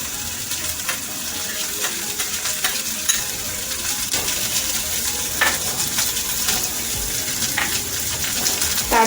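Thinly sliced large onion is mixed into half-fried potatoes in a pan, producing a loud, continuous hiss of frying with scattered scraping stirs close by.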